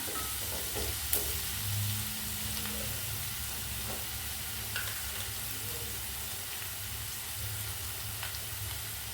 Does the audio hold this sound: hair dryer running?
no